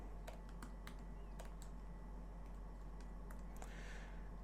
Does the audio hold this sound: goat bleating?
no